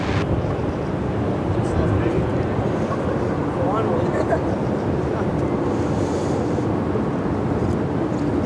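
A Jetstar A320 airliner takes off at RAAF Williamtown, with a continuous broad jet roar at a distance and wind buffeting the microphone. A person talks faintly underneath.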